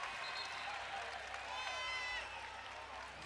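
A men's college volleyball arena crowd, Hawai'i against Long Beach State, roars and claps continuously as everyone stands, a dense wash of cheering and whistles with a commentator talking over it.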